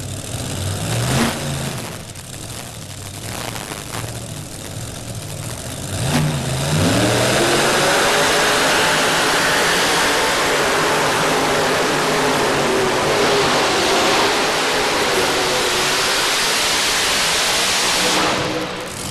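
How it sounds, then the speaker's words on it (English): A tractor pull machine running on only two engines grinds and roars at sustained high load, the engine noise rising and staying loud and steady for most of the run at a farm machinery show arena. "Only 2 engines pulling there."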